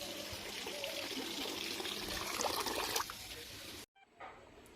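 Water pouring and splashing steadily while mustard seeds are washed, a continuous close rush of liquid that cuts off abruptly near the end, followed by a brief small trickle.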